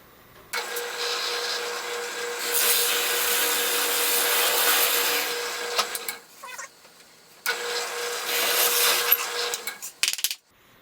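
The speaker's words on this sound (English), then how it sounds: "and now we drill the hole." A power drill with an inch-and-a-quarter bit boring a hole in a wooden birdhouse: two loud, whining bursts of several seconds each, separated by a short pause and followed by clattering, with no talk.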